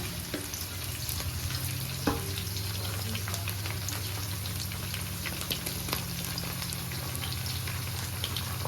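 Okra pieces fry in a pan with a steady, close sizzle and crackle, broken by a few soft stirring knocks. No one speaks.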